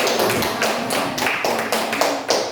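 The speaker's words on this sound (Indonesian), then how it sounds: "Berikan aplaus dulu untuk kedua kelompok" Applause for two student groups in a classroom, a short burst of rhythmic, fairly close clapping from a small group.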